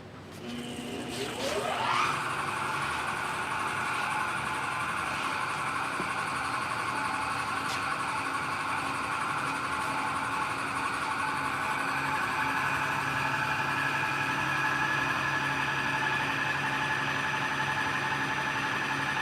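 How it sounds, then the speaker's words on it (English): A gas-powered pump engine cranks, catches with a rising whine in the first two seconds, then runs steadily and loudly at a constant pitch, close up, with no talking over it. "Starting the pump up."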